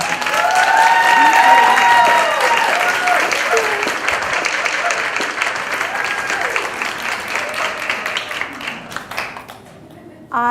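Audience applause at a vegan festival, a loud and steady wash of clapping from a seated crowd that slowly thins and fades over ten seconds.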